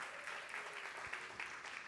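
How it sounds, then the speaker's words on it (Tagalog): Audience clapping at a 40th anniversary conference, a steady dense patter filling the whole stretch with no voices over it. "Palakpak muna pala yung naka-attend ng ating 40th anniversary."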